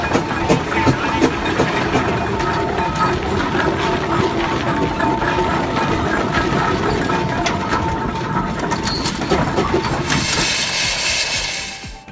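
An old Chief agricultural engine from the late 1800s runs loudly and steadily, a dense continuous mechanical rumble, with a brighter hissing rush rising near the end before it cuts off.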